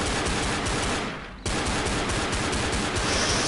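Rapid bursts of gunfire from the zombie shooter Left 4 Dead in the subway tunnels, loud and dense, pausing briefly before a renewed stream of shots.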